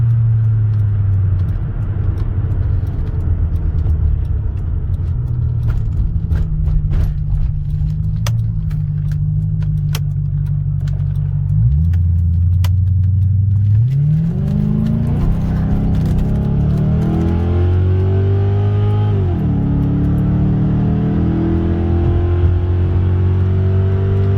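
Car engine revving hard at high RPM in second gear while moving at speed, a loud steady drone that drops and then climbs again through shifts, with rattling and clicking from the cabin.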